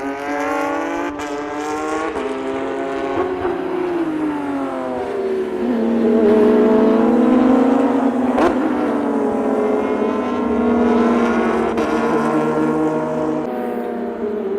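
Race cars drive through Bond Bend, turn 2 at Sydney Motorsport Park, their engines droning loudly with rising and falling pitch as several cars pass one after another, a continuous roar with overlapping engine notes heard from trackside.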